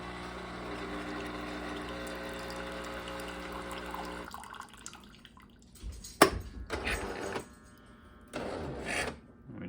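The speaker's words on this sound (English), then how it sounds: "Rinse, get some hot water going through the pipes." A Jura Impressa F7 coffee machine runs a rinse cycle: a steady mechanical hum and whir for several seconds, then hissing spurts and gurgling bursts as hot water is pushed through its pipes.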